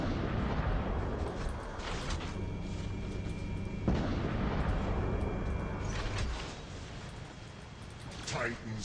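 Rocket fire against an enemy robot in the War Robots video game, with loud continuous booming blasts and rumbling explosions filling the mix while a voice talks over the action.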